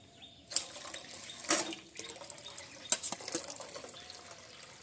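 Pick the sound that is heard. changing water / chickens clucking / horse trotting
changing water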